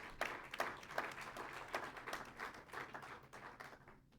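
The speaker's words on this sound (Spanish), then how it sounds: "Si tú le quieres dar un aplauso a Dios" A church congregation at a Spanish-language sermon claps in a steady, rhythmic beat that repeats for several seconds, heard faintly and without voices over it.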